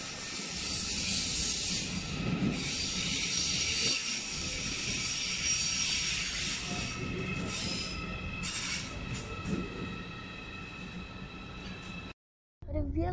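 An ICE high-speed train runs through Frankfurt station with a long, steady rumble and high wheel squeal, the sound holding loud and close before cutting off abruptly near the end.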